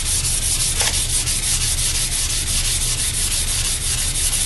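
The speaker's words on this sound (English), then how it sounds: "sand it down lightly. Don't go too hard" Filler on a model rocket is sanded lightly with 400 grit sandpaper in steady, even rubbing strokes, close and continuous with no speech.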